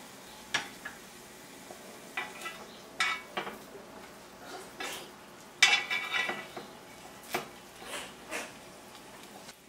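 Honey glazed chicken cooks on a grill pan as a soft sizzle runs underneath scattered clinks and scrapes of utensils against the pan, all faint and close.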